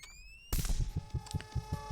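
One sudden, loud shotgun blast goes off in a roulette video game after a quiet moment, followed by a run of rhythmic thumping game sounds.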